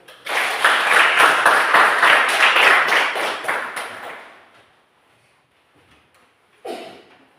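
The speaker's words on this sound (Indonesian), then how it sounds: "Oke, coba kasih tepuk dulu." A classroom of students claps together in a quick rhythmic pattern for about four seconds, then it stops, followed by near silence and one short burst near the end.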